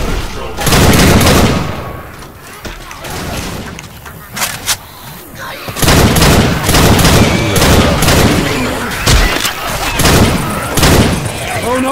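Loud bursts of gunfire from the Left 4 Dead 2 video game, with rapid automatic volleys and single shots coming in dense clusters broken by short lulls, while players talk over the action.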